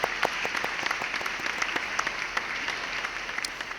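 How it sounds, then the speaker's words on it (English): Applause at a university CAD/CAM design competition awards ceremony, a steady spread of clapping with distinct claps popping out, moderate in volume and with no talking. "Give them a round of applause."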